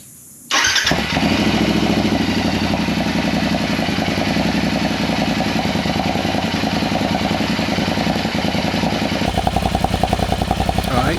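A Royal Enfield motorcycle with an aftermarket muffler fires up and idles loudly and close by with a deep, throaty exhaust rumble and a few pops near the end.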